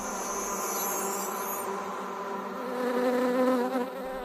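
Bees buzz in a continuous close drone, a dense hum that wavers in pitch and swells louder toward the end, heard alone without voices.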